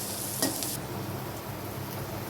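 Chopped ivy gourd (dondakaya) sizzles steadily in a hot pan, with a brief scrape of stirring near the start and a continuous close frying hiss.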